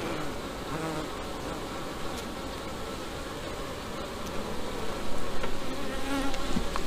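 Honeybees buzzing around an open hive during an inspection, the colony preparing to swarm: a dense, continuous hum from many bees, close and steady, swelling slightly louder near the end.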